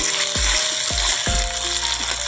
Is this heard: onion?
yes